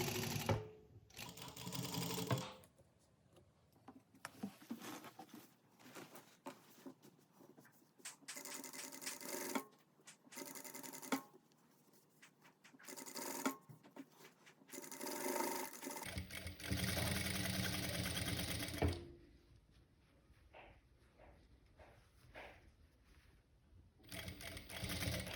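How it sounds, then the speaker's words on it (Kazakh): Sewing machine stitching the hem of a trapeze skirt in bursts, loud runs of stitching separated by pauses and small handling noises, with a long steady run near the end. "Асықпай, әдемілеп, түзеу етіп тігіп шығамыз."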